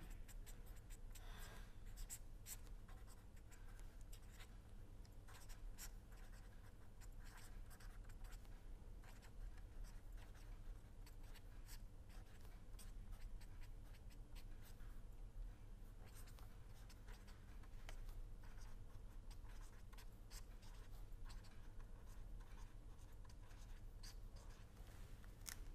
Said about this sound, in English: I will write the final solution.